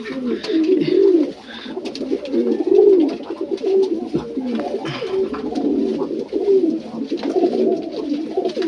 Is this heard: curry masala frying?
no